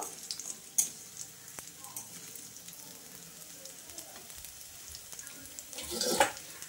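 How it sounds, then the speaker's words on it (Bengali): Faint, steady sizzling of small puti fish frying in a pan, with a soft crackle throughout and a brief louder burst of spatter near the end. "আমি তো মাছ কটা আগেই ভাজা বসিয়ে দিয়েছিলাম"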